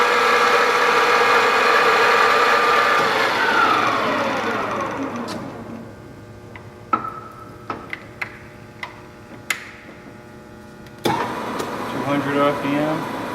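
A Deckel FP2 universal milling machine runs at 2000 RPM in a machinery shop, giving a loud steady whine with layered tones that winds down over several seconds, followed by a few sharp clicks and a brief restart hum.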